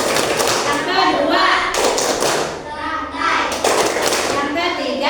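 A class of fifth-grade children clapping the Pancasila clap rhythm in bursts of sharp, near thuds and taps, with brief pauses between groups and children's voices mixed in.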